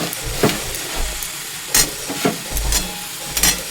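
Shrimp sizzling in oil with browned onions, a close steady frying crackle broken by several sharp scraping stirs of a spatula against the pan, with no talk.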